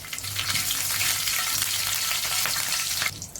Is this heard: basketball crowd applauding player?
no